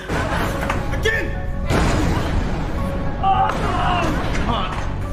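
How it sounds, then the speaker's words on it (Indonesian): An iron door is rammed with a big wooden table, giving heavy, booming thuds and crashes amid a dense, noisy scene, with agitated voices shouting over the impacts. "Pertama-tama pintu besi akan dijebol menggunakan meja kayu besar."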